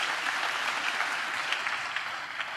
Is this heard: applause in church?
yes